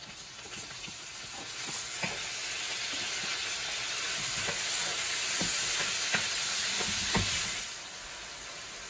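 Tomatoes frying in a pan while cooking guisadong upo with pork belly, a loud steady sizzle with repeated scraping stirs that fades near the end.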